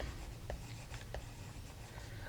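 Pen or marker scratches out a few short strokes during a math lesson, soft close scribbles over a steady room hiss.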